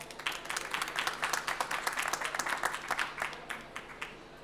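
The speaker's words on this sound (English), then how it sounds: "let's give a big warm round of applause" A small audience claps steadily for several seconds for a panel at the COP29 conference, a dense patter of hands that fades slightly toward the end.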